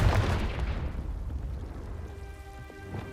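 Spell blast from Hogwarts Legacy: a loud, dense explosive burst at the start that decays into a rumbling, crackling tail, with a faint tonal hum emerging as it fades.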